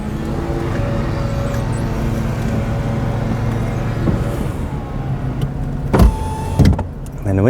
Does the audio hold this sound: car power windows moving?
yes